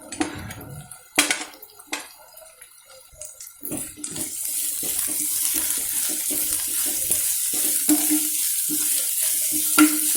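Cabbage, carrot and capsicum stir-fried over a full flame for veg manchurian, with a steady sizzling hiss, scraping stirs and spoon clinks against the pan, close and continuous with no talking.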